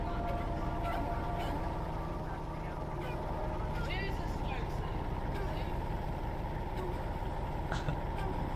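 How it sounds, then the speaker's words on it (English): A modified Chevy SS at a Southwest Florida car meet runs with a deep, rumbling engine note that holds steady throughout. A man swears over it. "That doesn't sound like a Chevy SS. That sounds like a Mustang, sir."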